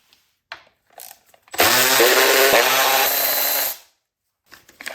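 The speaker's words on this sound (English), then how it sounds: "So now we're able to take the 1, 2, 3, 4 DME bolts off." A power tool whirs loudly for about two seconds while removing the DME bolts from a BMW N20 engine, with light clicks and handling noises before and after.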